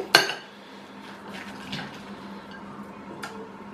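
Bacon and egg sandwich filling stirred in a bowl, with a sharp clink of utensil on dish at the start followed by soft, wet mixing scrapes, close and moderately quiet.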